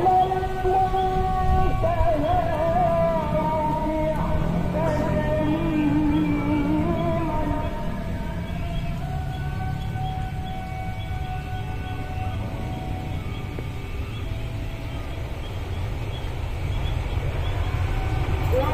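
A locomotive train passing an Indonesian railway station, its multi-tone horn blaring for several seconds over a steady rumble of wheels and carriages that continues loud and close after the horn stops.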